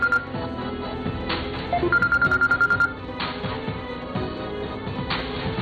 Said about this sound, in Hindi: कि जुल्करनैन का फोन आ गया।